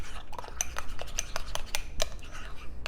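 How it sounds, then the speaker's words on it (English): Rapid clinking of a metal utensil against a bowl while biscuit batter is stirred, a quick irregular run of small taps up close. "Stir, stir, stir."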